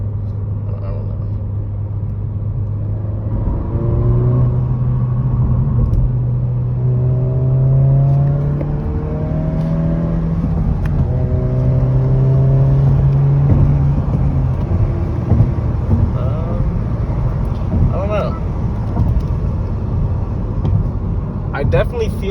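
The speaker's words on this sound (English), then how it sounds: "I guess the blow off is a little bit louder, so I do hear it for sure." Engine of a 2022 Honda Civic Si fitted with a PRL intake, revving up in several rising pulls over a steady idle rumble, with a blow-off valve hiss between them, loud and close.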